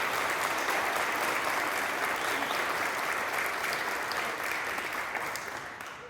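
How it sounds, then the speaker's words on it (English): A large audience at a university dean's welcome reception breaks into loud, sustained applause that fills the room at a steady level for several seconds and only starts to fade near the end. "I think maybe we should give him a round of applause."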